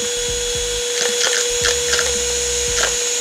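A HoLife cordless handheld vacuum cleaner runs with a steady high-pitched motor whine up close, with a few brief bursts of sucking and rattling as it picks up debris.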